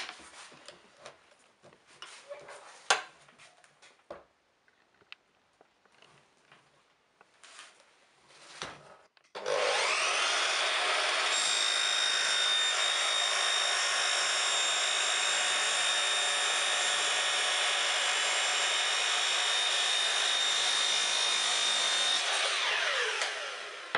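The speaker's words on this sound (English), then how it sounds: "now we're going to cut the perspex" Power saw cutting through a perspex sheet for a display box, a loud steady whine with bright harmonic tones that runs continuously for about fourteen seconds after scattered quieter handling noises.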